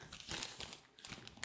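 Close, quiet crinkling of a paper receipt being handled, a quick run of papery rustles and crackles with a few louder crisp bursts.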